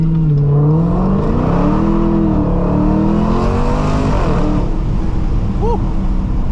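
A Dodge Challenger Hellcat Redeye with a loud supercharger roars close by as it accelerates hard and breaks traction, a rising, wavering engine howl that stays loud throughout, ending in a brief high whine.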